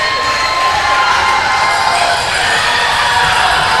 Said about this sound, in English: A big cheer from the Swiss crowd.